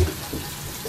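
Tap water runs steadily into a sink while a baby bottle is rinsed out, a close, continuous splashing wash with no talking over it.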